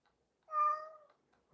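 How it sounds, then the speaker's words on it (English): A domestic cat gives a single clear, drawn-out meow close by in a quiet room, followed by a short burst of other noise at the end. "Do you have to meow at me all the time?"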